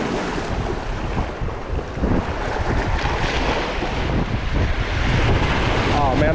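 Strong wind and incoming tide surf roar loud and continuous at a Long Beach Peninsula shore during fishing, a dense rushing wash with heavy wind buffeting on the microphone.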